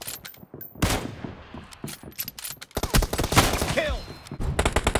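Kar98 bolt-action rifle firing in PUBG Mobile, sharp loud cracks amid a busy stretch of repeated gunfire and impacts, with game noise between shots.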